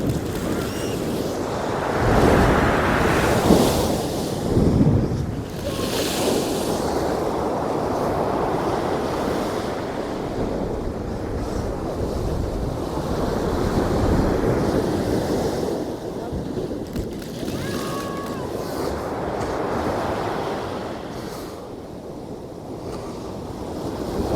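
Ocean surf washing in and crashing as waves meet on the way back out, a continuous roar with swelling surges and wind buffeting the microphone, loud and close throughout.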